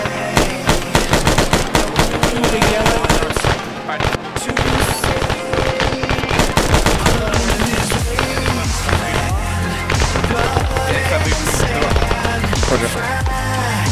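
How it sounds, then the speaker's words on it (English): Rapid machine gun fire in the military shooter game Arma 3, dense bursts of loud rattling shots filling the whole stretch, layered with other gunfire and faint radio chatter. "Some sort of machine gun southeast."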